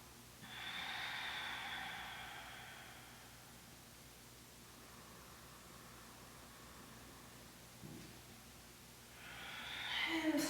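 Deep, slow breathing held during a yoga pose, long airy inhales and exhales rising and fading as soft broadband hiss, close to the microphone, with no talking over it.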